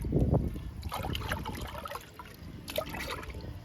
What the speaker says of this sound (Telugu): ఈరోజు ఈ లిక్విడ్ని నేను చామంతి మొక్కలకి ఇస్తున్నాను